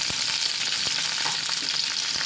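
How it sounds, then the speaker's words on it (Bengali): Garlic, green chillies, onion cubes and tomato pieces sizzle steadily in hot oil for prawn do payaza, a close, bright frying hiss with a few small knocks of stirring. "এই যে ভাজা হচ্ছে"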